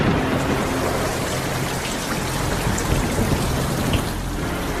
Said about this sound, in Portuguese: quando ocorre condensação aqui, chove metano